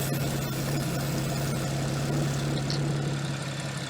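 A Porsche 997.2 engine idles after an oil change, a steady low hum with a constant drone and light vibration, close and continuous with no talk.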